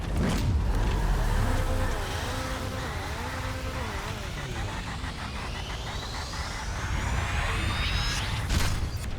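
A car does a burnout at the start line of a drag race in GTA. The engine roars and revs higher and higher over a heavy, continuous rumble, and a sharp whine climbs toward the end.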